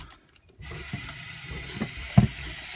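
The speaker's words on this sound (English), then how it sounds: "And you want to turn on the water" Tap water runs steadily into a tumbler drum holding brass cartridge cases and cleaning media, a continuous close hiss of flowing water after a brief silent start, with a few small knocks and clinks.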